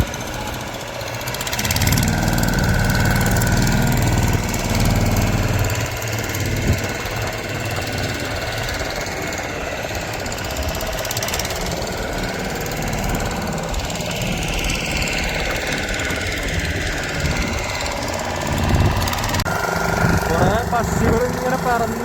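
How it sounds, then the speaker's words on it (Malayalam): A boat engine runs steadily on Chilika Lake in Odisha as the boat pulls away from shore, a continuous low rumble with some clatter under open-air noise, growing louder after the first couple of seconds. "ബോട്ട് അങ്ങനെ തീരം വിട്ടുകൊണ്ടിരിക്കുകയാണ് കേട്ടോ."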